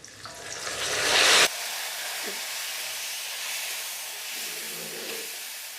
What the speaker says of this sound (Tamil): இது பாருங்கள், எண்ணெயில் வதங்குது.